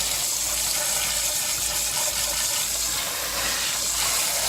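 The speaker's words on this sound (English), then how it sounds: "You just get that hot water on there." Hot water gushes steadily from a kitchen tap over a badly damaged pot handle, a close, constant hiss of running water with no voices.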